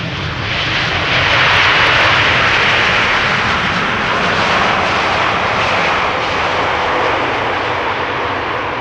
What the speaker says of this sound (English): Lovely landing in true KLM fashion.